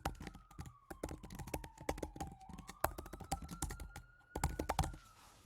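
Fast typing on a computer keyboard, a steady stream of close, crisp key clicks with brief pauses, faint overall and with no one speaking.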